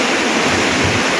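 Sea waves crashing on a rocky shore, a brief dense roar of surf and spray, loud and close with no talk.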